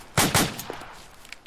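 Enemy gunfire in a co-op tactical video game: two sharp, loud shots close together near the start, followed by a decaying tail and a few fainter distant pops.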